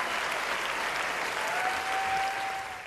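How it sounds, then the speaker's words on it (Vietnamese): A studio audience applauds a five-year-old girl singer on a talent show, dense steady applause that holds loud throughout with a faint sustained tone running underneath. "Ở đây khán giả dành cho bé một tràng pháo tay"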